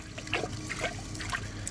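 Water splashes and trickles steadily as it is washed off the bowl of a round 2016 ProFlo Gilpin toilet, with a continuous wet, dribbling sound and no one speaking.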